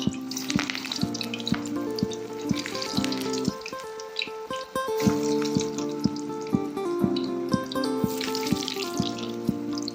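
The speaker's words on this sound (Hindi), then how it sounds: "ऑयल गर्म हो गया है, अब हम इसमें एक एक करके अपने कोफ्ते डाल रहे हैं।" Papaya koftas fry in hot oil with a steady, close crackling sizzle that runs throughout, accompanied by a tonal background layer.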